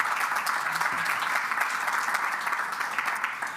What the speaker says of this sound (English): I think that also deserves an applause.